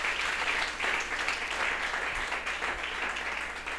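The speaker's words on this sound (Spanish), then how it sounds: "Fuerte ese aplauso para nuestro Señor Jesucristo." A church congregation applauds after a sermon about baptism, steady dense clapping from many hands that fills the room for the whole stretch without a break.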